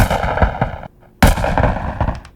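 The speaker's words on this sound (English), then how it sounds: "a lot of those crackle and pops is really just coming from that transient shaper" Dense, loud crackling and popping like synthetic fire, made from white noise with a transient shaper, with sharp bursts throughout. There is a brief quieter gap before a heavy impact restarts the crackle.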